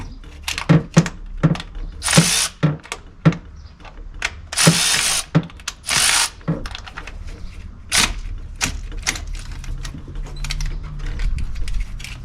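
A ratchet works on parts of a 2005 to 2007 Cummins diesel fuel injector setup, giving bursts of close, loud clicking and metallic clattering with short pauses between strokes and no talking.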